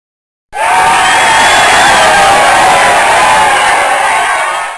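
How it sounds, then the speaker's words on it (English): A large crowd bursts into loud, sustained cheering and whooping right after a moment of silence, staying full and close for several seconds before easing slightly at the end. "So could you hear that cheering?"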